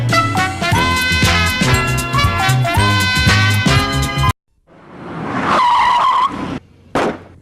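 Car tires skidding and squealing in the video game Doom (2016), heard after a stretch of loud music, with a sustained screech, a brief gap, then a sharp final burst.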